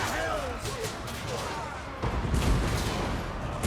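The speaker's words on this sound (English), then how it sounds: "the cannons are firing" Cannons boom in a Total War: Warhammer multiplayer battle, with a heavy thump about two seconds in. They sit among rumbling battle noise and overlap with speech.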